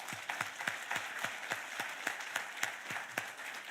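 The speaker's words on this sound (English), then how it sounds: "I think we just need to give him a hand of applause" Audience at a taxpayer awards ceremony in Swakopmund, Namibia, applauding in a steady patter of distinct, fairly sparse claps, moderately distant and continuous throughout, with no talk over it.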